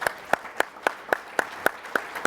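Applause from the audience at a live late-night talk show, heard as steady, evenly spaced claps, fairly close and clear, with no talking over them.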